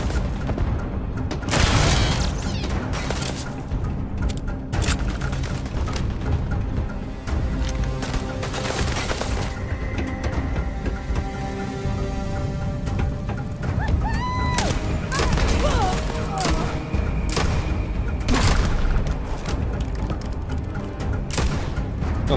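Rapid gunfire and booming shots in the space game Starfield, with bursts of automatic fire and heavy thuds piling up continuously and loudly, mixed with game effects and music throughout.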